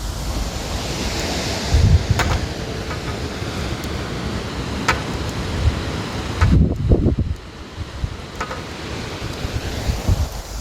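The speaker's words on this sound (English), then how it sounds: "our weather outside is very rainy and windy" Strong stormy wind blows outside during rainy weather in New Zealand, a loud, continuous roar with buffeting gusts that swell near the two- and seven-second marks.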